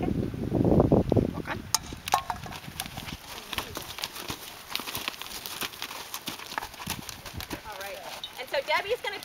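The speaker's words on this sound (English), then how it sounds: "We're testing this horse too, so we want to make sure the horse is going to be okay if these riders wobble around." A therapeutic riding horse walks a 20 meter circle in an arena, its hooves clip-clopping in a steady irregular rhythm, close and moderately loud, while people talk over it throughout.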